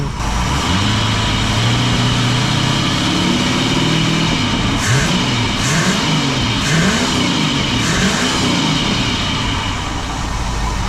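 A 1969 Thunderbird Tri Hull boat engine idles loud and close in a continuous rumble, its low tone wavering slightly throughout with no talking.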